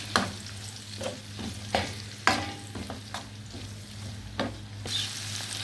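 Onions fry with sujuk in a pan while a spoon stirs them, making steady sizzling under repeated scraping strokes, several sharp clacks against the metal, close and fairly loud with no talking.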